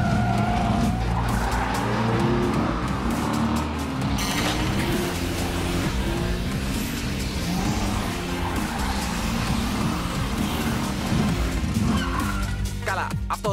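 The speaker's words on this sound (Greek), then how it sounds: "Πατάμε τον γκάζι και πάμε σαν τρελή." A cartoon Hot Wheels car revs hard and peels out, tires squealing and skidding continuously under a roaring engine, loud and close throughout with a dense, driving background.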